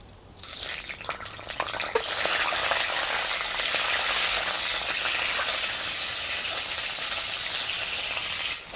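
Eggs frying in hot mustard oil in a wok, a bright, steady sizzle with crackling pops that swells as the eggs hit the oil and then holds evenly, close and loud.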